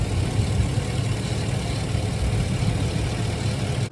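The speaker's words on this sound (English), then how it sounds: "This thing is just sounding amazing." A 2010 Chevrolet Express 3500 box truck's flex-fuel V8 idles, a close, steady low rumble with an even pulse that cuts off abruptly at the end.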